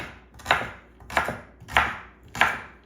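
Celery being roughly chopped on a cutting board, four evenly spaced knife strikes about two-thirds of a second apart, close and clear with no talking.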